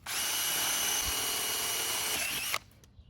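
A power drill bores pilot holes for bolt plates on a high-power rocket build, running steadily and loudly for about two and a half seconds before cutting off abruptly, leaving a quiet room with faint movement.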